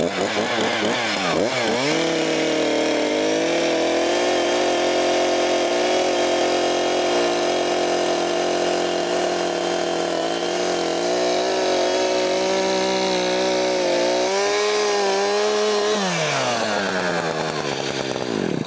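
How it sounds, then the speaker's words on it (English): A chainsaw revs up sharply, then bites into wood with a cutting stroke drawn upward through the log, its engine holding a loud steady snarl for many seconds before winding back down at the end. "So now I'm going to show you how to go up with the saw."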